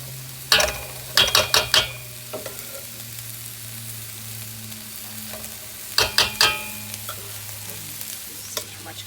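Rice for Chinese fried rice is stir-fried in a pan, with two clusters of sharp scraping and tossing strokes over a steady low sizzle and hum, close and fairly loud, with no talking.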